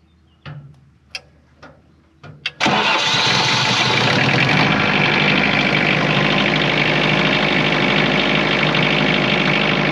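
A tractor engine cranks with a few short clicks and chugs, then catches and settles into a loud, steady idle that runs on unbroken, close by in a farm setting, no voices.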